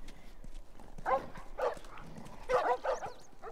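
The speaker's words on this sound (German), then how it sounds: "Ich hoffe, dass es keine infizierten Hunde sind." A few sharp barks from infected dogs in the video game The Last of Us, heard at a middle distance in short bursts spaced across the moment, without talk.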